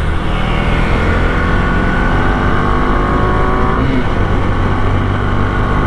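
Motorcycles roar loud and steady at the start of a drag race, a dense continuous engine drone with a rising rev near the end and no talk over it.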